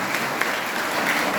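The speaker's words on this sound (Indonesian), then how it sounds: "Berikan tepuk tangan yang meriah untuk Tuhan." Congregation applause at a Christmas youth church service, a dense, steady wash of clapping throughout with no gaps, loud and close.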